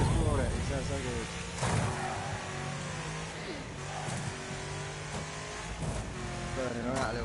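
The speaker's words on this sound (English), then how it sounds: "I'm just revving it out on the spot." A car engine in the racing game Wreckfest revs hard on the spot with the brake held, its pitch surging and falling repeatedly in loud, rough bursts with crackling bangs throughout.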